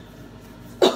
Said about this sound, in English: I've been coughing like all day